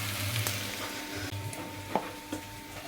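Cooked cabbage sits in a wok on the stove with a soft steady sizzle as a little ghee goes in, followed by a couple of light clicks of a utensil against the pan.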